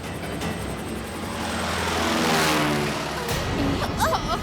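A propeller airplane engine from an animated story drones steadily, swelling louder toward the middle as it nears and then fading slightly, with a brief voice near the end.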